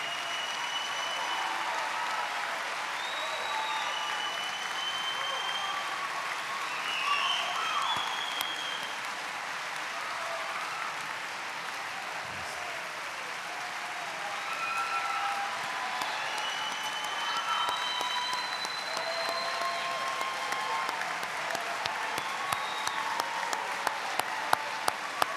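A large crowd applauds the graduating class of 2019 at a school commencement ceremony. The clapping is sustained and even, with scattered distant cheers, for about twenty-five seconds.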